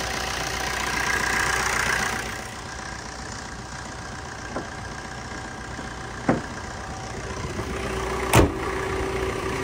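A Maruti Swift VDI diesel car, second owner, idles with a steady low engine hum, broken by a few brief clicks and knocks. No one speaks.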